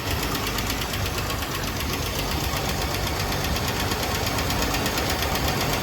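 A 1970 International Scout's 232 straight-six engine running after a carburetor rebuild, a steady loud rumbling idle with even mechanical knocking throughout, close to the engine.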